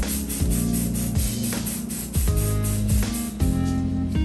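A steady, loud hiss of spray onto a Kawasaki Ninja ZX14R motorcycle chain runs continuously with background music underneath, close and unbroken, no voices.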